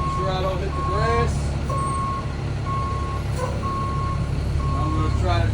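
A bus backing up emits a steady series of evenly spaced reversing beeps over a low, rumbling idling engine, with a voice talking now and then.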